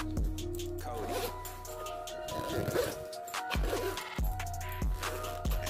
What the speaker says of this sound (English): zip this up